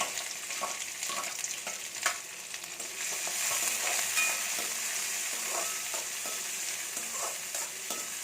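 Thinly sliced onion sautés in oil in a pan for a potato stir-fry, giving a steady close sizzle with scattered scraping stirs and one sharper clack early on, with no voices.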